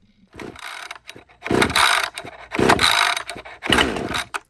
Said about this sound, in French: on va tirer fermement jusqu'à temps que la scie fasse son effort pour partir